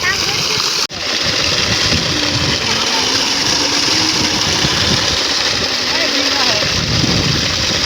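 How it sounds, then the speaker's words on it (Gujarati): Water gushes and splashes in a steady, continuous flow, close and fairly loud, over a low motor hum, with faint voices in the background. "કેટલું પાણી આવે છે"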